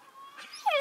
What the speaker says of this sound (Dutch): Hier een heel lief leuk hondje.